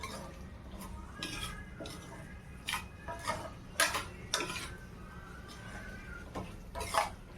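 Tomatoes stirred in a pan for paneer butter masala, with scattered spoon taps and scrapes against the metal at an irregular pace, soft and close over a low cooking hiss.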